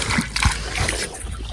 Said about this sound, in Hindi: अभी डाल रहा हूँ इनमें पानी।